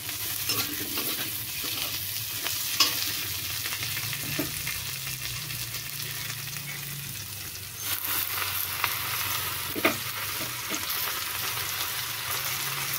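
Jute leaves (pat shak) fry dry in a pan with a constant soft sizzle, broken by occasional scrapes and taps of a stirring utensil, close and without talk.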